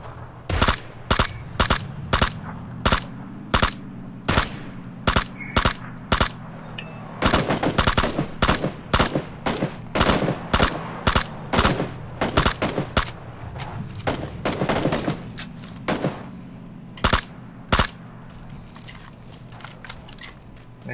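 Gunfire in the battle royale game PUBG: many loud, sharp single shots and rapid bursts cracking out irregularly, some clustered into quick volleys, with no talk.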